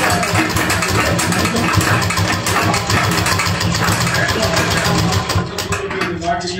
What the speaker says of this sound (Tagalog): Maingay yung makina ko.